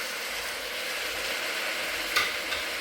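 Spiced paste sizzling in oil for a chicken biryani as a tomato mixture is added and stirred in, with a steady frying hiss and a couple of brief scraping clinks near the end.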